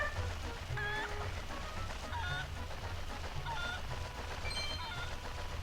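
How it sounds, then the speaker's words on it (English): Cucco chickens in Zelda: Twilight Princess HD on the Wii U, playing a repeated series of squawking clucks and honk-like calls over a steady in-game background bed, close and without any talking. "Come on, Cucco"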